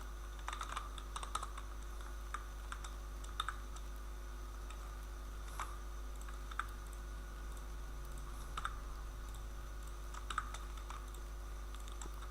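Computer keyboard typing while writing code for a school management system: sparse, light key clicks in short irregular bursts over a steady low hum, close and with no talking.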